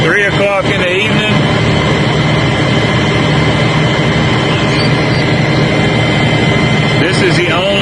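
An LS XR3135 tractor with an unfixed regen fault runs steadily and loudly close by, a constant broadband engine drone with no breaks; a voice speaks briefly over it near the start and end.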